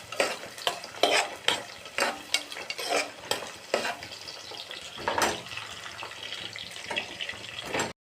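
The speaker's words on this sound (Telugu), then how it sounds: "ఉల్లిపాయలు డీప్ ఫ్రై చేసుకోవాలి." Onions deep frying in oil for a masala chaap curry, with a busy sizzle under repeated rhythmic scrapes and clinks of a spoon stirring the pan, close and moderately loud.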